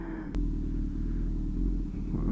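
A Honda CB1000R motorcycle riding near a lake, its engine a deep steady rumble that hums close and continuous after a brief click at the start.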